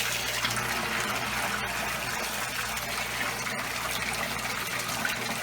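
An electric pump pushes water from a 200-tank guppy setup through a hose during a water change, giving a steady, close, continuous rush and gush of flowing water with no pauses or talking.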